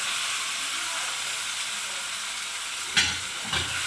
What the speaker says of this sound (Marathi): आता याच्यामध्ये आपण हे आपले शिजवून घेतलेले छोले टाकून घेऊया